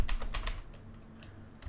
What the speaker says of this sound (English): I don't know what is going on with my typing here.